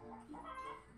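A chicken clucks in quick, close, fairly soft bursts of brief calls with no one speaking over them.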